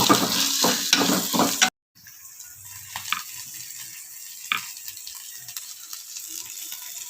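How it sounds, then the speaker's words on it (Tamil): Unpeeled garlic, pepper and cumin sautéing in a pan with dried chillies and small onions: a loud, dense sizzle with stirring scrapes, then a sudden cut to a quieter pan hiss with occasional utensil clicks. "மெல்லப்பூடு தோல் உரிக்க வேண்டாம் மிளகு ஜீரகம் போட்டு வதக்கிக்கோங்க"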